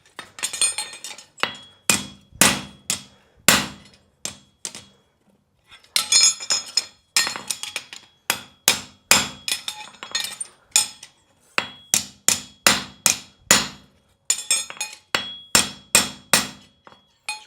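A farrier hammers a steel horseshoe flat on an anvil, delivering sharp ringing blows in quick bursts of several strikes separated by short pauses, loud and close with no talk.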